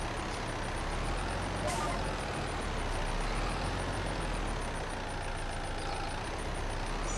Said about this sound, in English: Kind of sounds like it's a little diesel engine though, doesn't it?